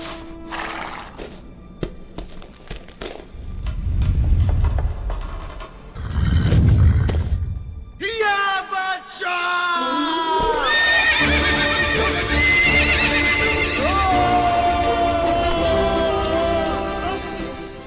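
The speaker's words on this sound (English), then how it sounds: "when Harsha's riding a horse to outrun a bus" A horse from the film Magadheera gives two loud whinnies among hoofbeats and rumbling action sounds, followed by a swell of orchestral music and a dramatic whooshing glide, with no speech.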